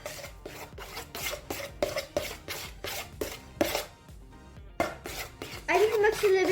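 A spoon stirs homemade slime as activator is worked in, giving repeated wet scraping and squelching strokes in a steady rhythm, close and fairly loud, with a brief pause partway through before the mixing resumes more vigorously.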